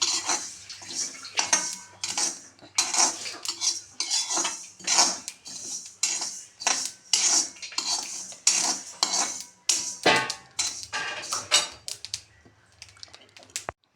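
Sesame seeds are dry-roasted in a pan and stirred with a metal spoon, producing a steady run of rapid, close clinking scrapes with a faint rattle of seeds between strokes, continuing alone without talk.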